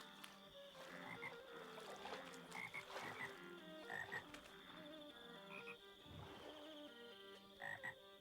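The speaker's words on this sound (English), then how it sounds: "The sound of frogs." Frogs in the Minecraft video game croak repeatedly in irregular clusters, a chorus of short ribbiting calls against faint ambient background, with no talking.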